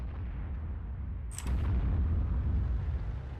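An artillery gun fires in World of Tanks, a single loud boom with a sharp crack cutting over a steady low rumble of engine and ambient game noise, followed by a heavier, sustained low roar.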